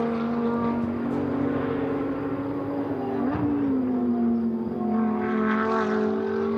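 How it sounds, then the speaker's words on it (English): A Brabham GT race car engine at the Red Bull Ring during a GT2 European Series race, a strong steady drone with a slight pitch dip midway, heard clearly without talk. "It's always worth focusing on the Brabham, especially for the noise it makes."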